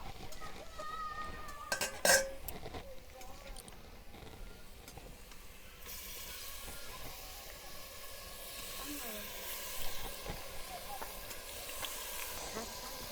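Marinated mutton cooking in a hot pot, with a soft, steady sizzle and hiss that grows after a clatter, plus faint stirring and pot clinks, fairly quiet.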